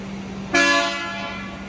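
A single loud blast of an air horn on a Scania 145 truck sounds suddenly and sustains for about a second before tapering off, over a low steady engine hum.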